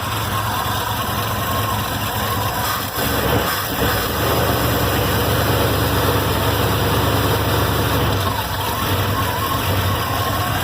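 An old truck engine idles steadily and loudly with a deep, even rumble, holding constant for the whole stretch with only slight wavers.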